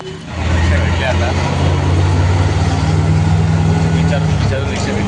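An auto rickshaw engine drones steadily and fairly loud from inside the cab during a Sunday-morning ride. Faint voices can be heard beneath the motor.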